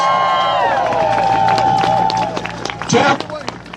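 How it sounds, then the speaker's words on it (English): A crowd at a women's march in Plattsburgh, New York applauds outdoors, scattered claps and cheers over a sustained high tone, with voices mixed in and a louder burst near the end. "Give them a round of applause."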